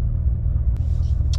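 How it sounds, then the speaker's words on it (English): Deep, steady low rumble from a Corvette Z06's engine, close and loud inside the car, one short burst with no speech. "we're gonna rev the motor so Mommy sees us driving her car"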